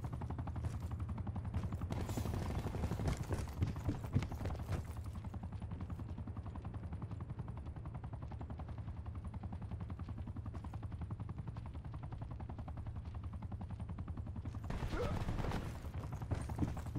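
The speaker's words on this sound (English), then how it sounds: "Enemy attack chopper above." Enemy attack helicopter overhead in Call of Duty Black Ops 4, a continuous rapid rotor chop throughout, mixed with bursts of gunfire near the start and end.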